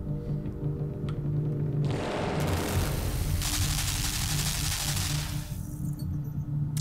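Machine gun fire in the dark side-scrolling game Limbo, a dense roaring burst of shots swelling over a low droning backdrop for several seconds before easing back.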